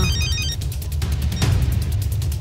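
A telephone rings during a call in a Telugu movie scene, a rapid repeating electronic ringtone pulsing steadily over a low background hum, with no one speaking.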